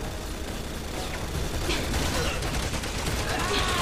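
Rapid bursts of gunfire from a Resident Evil 6 co-op match on a city street, a steady dense rattle of shots running throughout with faint game noise beneath.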